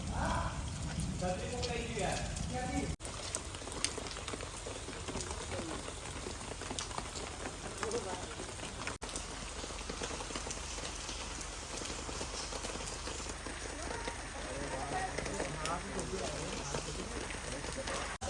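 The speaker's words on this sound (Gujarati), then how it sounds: "તેજસ બ્રો ગાઈસ વરસાદ બહુ બધો આવી રહ્યો છે." Heavy rain pours steadily on a surface in Surat, a dense continuous hiss through the whole stretch, with people talking over it and faint bird calls mixed in.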